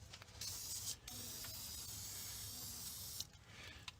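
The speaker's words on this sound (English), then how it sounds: "I'm gonna use this chain lube." An aerosol can of chain lube sprays in one long continuous hiss lasting about two seconds, followed by a shorter burst, close by and fairly loud, with no talking over it.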